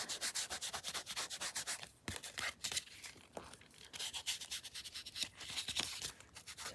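Ink being rubbed onto paper and card edges for a journal page, a close, quiet, dry scrubbing that comes in rapid rhythmic strokes, pauses briefly, then resumes, with no voices.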